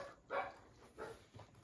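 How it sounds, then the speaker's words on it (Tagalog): A dog barks three times in a short burst, moderately close, with uneven gaps between the barks. "Yung aso na naman."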